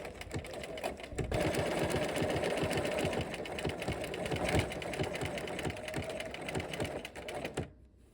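A sewing machine runs steadily for about eight seconds, stitching around an embroidered leaf on a sampler, with a fast even needle rhythm that stops near the end.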